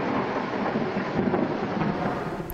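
Thunder rumbles through a heavy rainstorm over a jungle region, a broad continuous roar of rain with a deeper rolling swell of thunder, loud and steady throughout.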